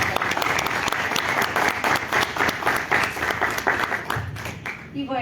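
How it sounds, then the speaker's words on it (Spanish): An audience at an academic forum on electoral justice in Mexico gives a strong round of applause for speaker Beatriz, dense steady clapping filling the room, close and loud, thinning out near the end as murmuring voices come in. "Démosle un fuerte aplauso"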